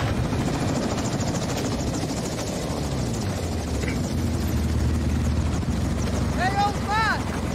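A military helicopter in the video game Modern Warfare 2 keeps up a continuous rotor rumble throughout, with a few high whistling tones near the end.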